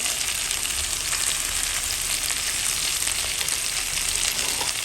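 Salt and turmeric powder stirred into a hot pan of spice paste, a loud, even frying hiss that holds steady throughout with faint stirring ticks.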